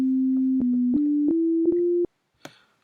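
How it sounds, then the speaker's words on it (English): A pure, steady sine tone holds for about two seconds, stepping slightly up in pitch with small clicks between steps, then cuts off into silence. "Add a simple sine wave."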